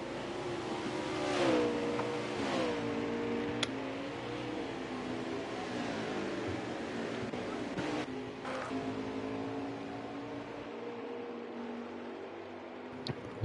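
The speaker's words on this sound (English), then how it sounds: "Oh, we got engine noise back finally." Racing truck engines on the circuit at Mid-Ohio, a continuous faint drone with rising and falling pitch as trucks pass, under a commentator's voice.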